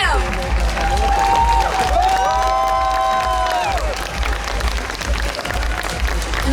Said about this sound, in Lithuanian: Plojam.